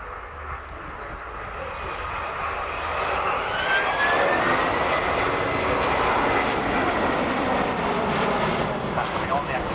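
An RNZAF Boeing 757-200 jet flies a slow pass with undercarriage up at the Royal International Air Tattoo air show, its engine roar swelling loud and broad, with a commentator talking over it.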